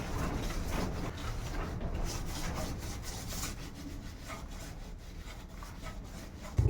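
Light, steady scrubbing of a kitchen item in a home kitchen, a continuous close rubbing and rasping texture with soft rhythmic strokes that carries on without talk, ending in a brief knock.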